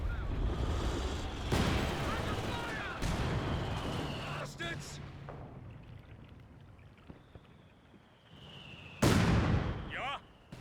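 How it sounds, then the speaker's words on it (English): Artillery barrage in the World War II strategy game Company of Heroes 2: heavy booms and blasts land one after another, some loud and some further off, with whistling incoming shells and a rumbling battlefield bed. "An artillery barrage has been laid on."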